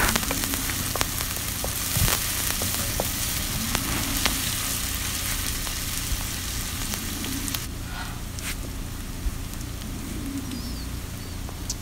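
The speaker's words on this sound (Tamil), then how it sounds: "நம்ம கட் பண்ணி வச்சுருக்கிற ஒரு வெங்காயத்தை போட்டு நல்லா வதக்கிடலாம்" Chopped onion sautéing in hot oil for a spicy mutton keema gravy, a steady close sizzle and crackle running throughout with occasional soft stirring clinks and no talk.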